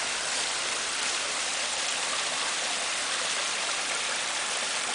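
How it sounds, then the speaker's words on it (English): A garden waterfall pours in a constant, even rush of falling water, close and steady with no voices. "The Mangoland Waterfall."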